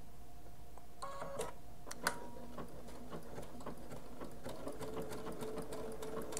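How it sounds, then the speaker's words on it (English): A Solaris 2 sewing machine stitching fabric down toward a sticker line, a soft steady mechanical patter with faint ticks and clicks throughout, fairly quiet and close. "I'm going to stitch down this way"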